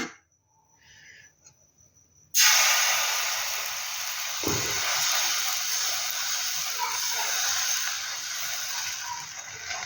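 Patishapta batter hits an oil-brushed tawa with a sudden loud, steady hiss of sizzling after a near-silent start. The sizzle holds strong and even to the end.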